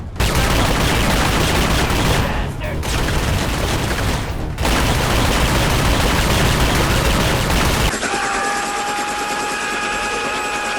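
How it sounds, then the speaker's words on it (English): Automatic assault rifle fire from the video game Butcher Bay roars as a dense, loud, continuous barrage with two brief dips, then gives way near the end to a thinner mix with steady tonal hums. "I did feel a bit like Rambo in terms of just holding down the trigger and watching the bullets fly."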